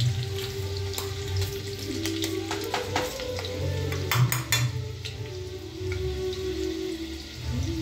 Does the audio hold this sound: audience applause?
no